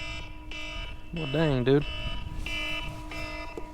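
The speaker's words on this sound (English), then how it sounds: "That right there is the official 30 minutes with no bite timer." A fishing bite timer set for 30 minutes goes off with steady electronic alarm beeps near the shoreline at Surfside, Texas, while someone talks over it and a warbling tone rises briefly in the middle.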